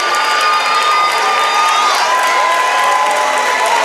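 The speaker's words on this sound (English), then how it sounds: "the crowd comes to their feet in anticipation of this play" Loud, dense crowd noise fills a gym during a boys district championship basketball game, with sustained cheering, shouting and whistles throughout.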